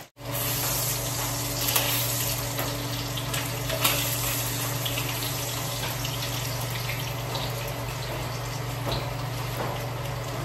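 Tap water runs in a steady, close, hissing stream, loud and unbroken for several seconds after a brief start, with no voices.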